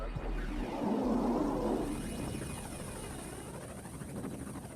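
A Super Frelon military rescue helicopter during a cold-water rescue exercise at sea, its steady rotor and turbine roar filling the scene, loud and continuous with a broad rumbling wash.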